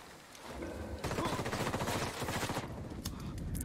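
Sustained automatic gunfire in the Ghost Recon Wildlands video game, a rapid rattling burst of close shots repeating in quick rhythm for several seconds, loud and dominant over the game's background.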